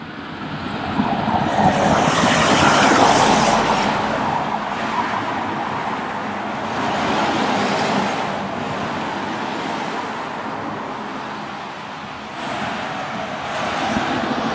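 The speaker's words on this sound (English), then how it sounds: "Listen to those cars." Continuous traffic noise from cars passing on a busy road near Eton forms a broad rushing wash that rises and dips as vehicles go by, with no one speaking.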